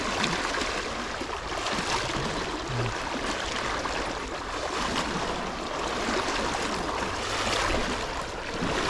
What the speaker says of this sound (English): A lot of the pools are just roaring through.